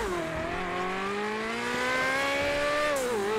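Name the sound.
Ferrari 458 Italia Spider car driving in GTA 5 video game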